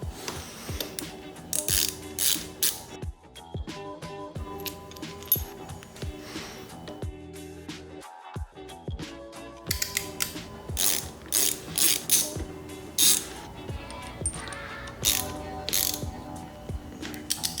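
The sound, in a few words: unscrewing motorcycle lever ends to swap stock levers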